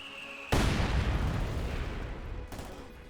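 A field gun is blown up in Company of Heroes 2, a sudden loud blast followed by a sustained rumbling, crackling roar that fades slightly, with a second impact near the end.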